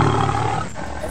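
A lion roars loudly and up close in one deep, sustained, rumbling roar that fills the whole moment.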